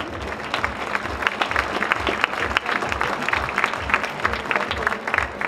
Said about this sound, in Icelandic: ég held að sé í lagi að klappa svo litið fyrir þessu